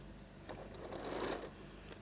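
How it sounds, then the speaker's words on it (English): A sewing machine stitches binding onto a quilt, a faint, soft running whir with light clicking bursts, heard alone at low level. "Now we're going to stitch our binding."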